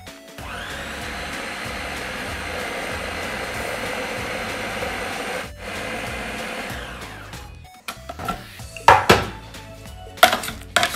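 An electric mixer whirs steadily through a homemade fishball mixture of fish, chicken powder, fish sauce and spring onion in a bowl, cutting out briefly twice before ending in a few clattering knocks and scrapes against the bowl.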